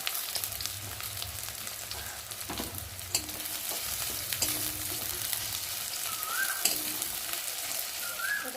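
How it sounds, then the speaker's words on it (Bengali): Onions fry in oil in a wok with a soft, steady sizzle, broken by occasional clinks and scrapes of a spoon stirring against the pan, close by with no voices. "এখন এই যে কড়াতে তেল দিয়েছি এখন পেঁয়াজগুলো দিয়ে দিলাম পেঁয়াজ দিয়ে এখন ভালো করে ভেজে নেব"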